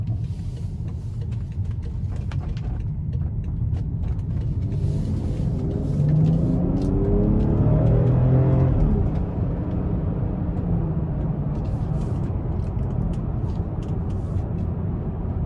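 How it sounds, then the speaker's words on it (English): A 2017 BMW X5 M Sport in sport mode given throttle, heard from inside as a loud, steady engine rumble that swells and climbs in pitch midway, then settles back down. "we're gonna put it in sport mode one more time and give it some throttle"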